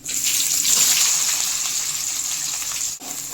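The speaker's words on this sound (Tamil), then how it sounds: "நம்ம எடுத்துருக்க பட்டை கிராமெலாம் போட்டு பொரிய விட்டுருவோம் வெங்காயத்தை சேர்த்துவோம்" Onions hit hot oil spiced with cinnamon and cloves and set off a loud, bright, continuous sizzle that gushes up at once and holds steady, with a brief break near the end.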